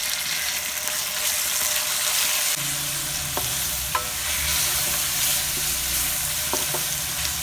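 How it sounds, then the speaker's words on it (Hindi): Tomatoes with crushed red chilli, turmeric, salt and kadai masala frying in a kadai over medium heat, giving a steady loud sizzle with scraping stirs and a few utensil knocks, heard alone without speech. "पाँच मिनट के लिए हम मीडियम आंच पे रख देते हैं ताकि टमाटर अच्छी तरह नरम हो जाए"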